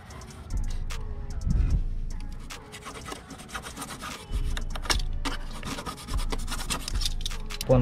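Holes are worked into the plastic body panel of a Honda Dio scooter, heard as close, irregular rasping and scraping strokes in short bursts, with brief pauses and no talk.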